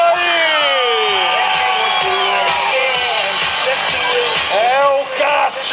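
A large crowd at a motorcycle stunt show cheers, whoops and shouts loudly and continuously, with many overlapping voices and a brief dip near the end.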